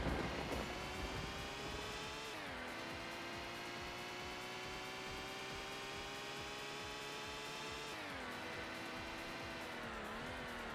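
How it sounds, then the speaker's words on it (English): A Toyota MR2 race car in the Max Power Racing game's GTI Pro Class championship, its engine a steady, buzzing drone that holds pitch, dips briefly with gear changes, and carries on throughout without talk. "The MR2 is still directly behind, I can hear him."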